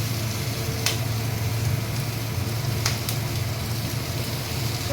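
Onion and fish fry with eggplant in a pan, giving a steady, moderate sizzle broken by a couple of brief utensil clatters.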